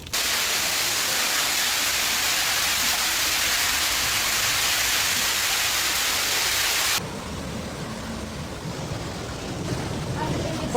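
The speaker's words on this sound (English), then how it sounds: "Rain continued to fall" Heavy rain in a violent storm during a street flood in Santa Rosa, Argentina, a dense, loud, constant downpour roar that suddenly drops to a softer wash of water partway through.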